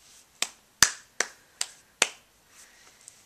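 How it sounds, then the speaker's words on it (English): A ten-month-old baby claps, making five sharp, close slaps spaced about half a second apart, followed by a couple of softer taps in an otherwise quiet room. "now he claps all the time"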